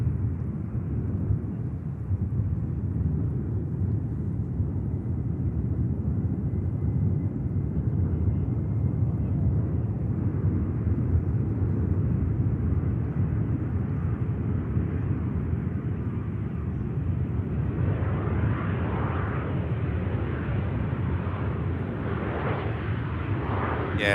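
An Airbus A380 jet passes at a distance near Manchester Airport as a low, steady rumble that holds for a long stretch and swells slightly toward the end, with no voices.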